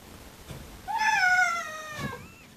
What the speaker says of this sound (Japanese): 大好きなお風呂にすぐに入れず、なんとも悲しそうな声を出すカカオくん。